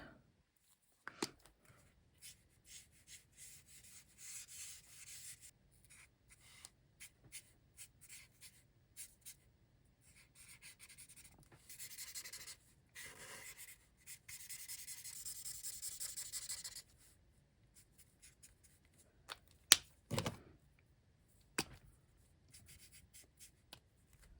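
Alcohol markers scratch and rub across paper in short repeated strokes, quiet and close, with brief pauses and a few sharper taps, and no talking.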